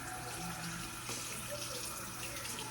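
Water runs steadily from a tap while hair is being rinsed on wash day, making a constant close splashing rush with no break.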